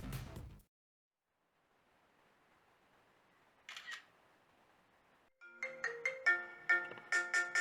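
A telephone rings in short repeated electronic trills, close and clear, after a brief burst of sound and a quiet pause in a room.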